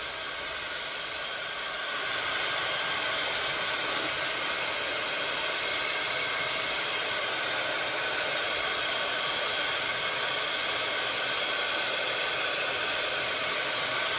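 A hair dryer blows steadily and loudly throughout, a continuous airy roar that swells slightly after the first two seconds, used to speed drying during craft work, with no talking.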